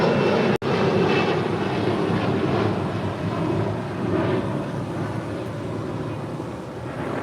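Qantas airliner taking off from runway 25 right at LAX, a broad, steady jet engine roar that stays loud throughout, with a sharp click near the start and no voices.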